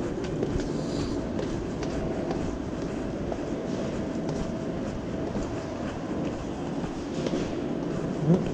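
A train rolls past with steady rumbling and clickety-clack of wheels on rails, moderately close and continuous, with faint squeals and no clear talk.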